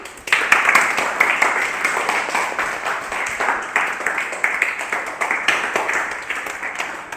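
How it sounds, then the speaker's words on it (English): An audience at an English-speaking activity session applauds for Anuj, a dense, steady burst of clapping close by that lasts several seconds without a break. "So, big applause for Anuj."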